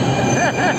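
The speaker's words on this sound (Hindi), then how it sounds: "ये आ गई है शहीदी स्थल की मेट्रो" A Delhi metro train arrives at the station with a rumbling roar and a faint squeal of wheels. Someone talks over the noise.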